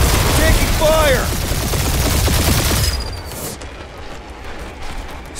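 Rapid spaceship gunfire in a dogfight from the Guardians of the Galaxy video game, loud dense bursts with whooshing engine sweeps, then cutting to a quieter rumble with a faint whine.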